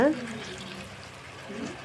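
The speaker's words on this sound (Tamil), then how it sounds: "இன்னும் பகுதி வேகிறதுக்கு தேவையான அளவு ஒரு 1/2 டம்ளர் அளவுக்கு தண்ணி சேர்த்துக்கோங்க" Half a tumbler of water poured into a pan of partly cooked potato fry, a soft, faint steady splashing rush following a brief voice at the very start.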